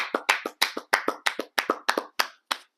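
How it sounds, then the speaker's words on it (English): A small group clapping together in an informal setting, about a dozen sharp, distinct claps in an uneven rhythm, close and loud, with no talking. "Let's clap it up really quick."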